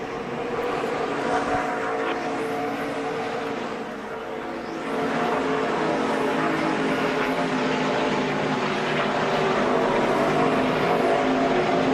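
NASCAR Nationwide Series race cars roar around Iowa Speedway, a continuous loud engine drone with several passing whooshes rising and fading.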